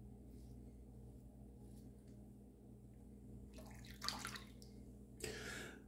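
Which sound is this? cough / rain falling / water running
water running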